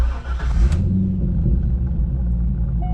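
A C5 Chevrolet Corvette, lightly modified and about twenty years old, pulls away with a deep, loud V8 rumble, a brief rev at the start settling into a steady low drone close by.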